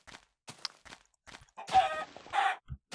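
Chickens in the Minecraft video game give short, sparse clucks and clicks, a few blocky bursts of fowl sound spaced across a quiet stretch of gameplay.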